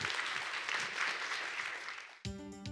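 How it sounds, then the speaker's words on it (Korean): Audience applause welcoming a visiting NASA scientist to a science lecture hall, a dense wash of many hands clapping for about two seconds before it cuts off abruptly into a short musical sting. "큰 박수로 맞이해"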